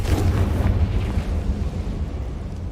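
A Confringo blasting spell detonates in Hogwarts Legacy as a loud, close, rumbling explosion that swells at once and then slowly dies away, heard alone.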